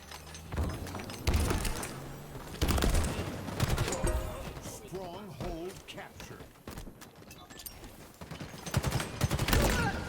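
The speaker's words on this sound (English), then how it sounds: "Nice shots coming in here now." Gunfire in a competitive video game match, with bursts of automatic shots coming in clusters near and far, heard under steady commentator talk.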